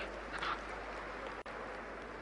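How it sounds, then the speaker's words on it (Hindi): Audience applause greets a woman honoured at a Madhya Pradesh 'Nari Tu Narayani' event with CM Shivraj Singh Chouhan, a steady wash of clapping running the whole time with one brief dropout partway through. "ताली बजा के इनका स्वागत करें सब"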